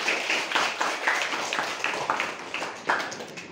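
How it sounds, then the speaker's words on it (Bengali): A sixth-grade classroom applauding a student group after its presentation: a steady burst of many hands clapping, close and fairly loud, with irregular sharp claps for a few seconds and no speech. "গ্রুপ 1 এর জন্য একটা করতালি হয়ে যাক।"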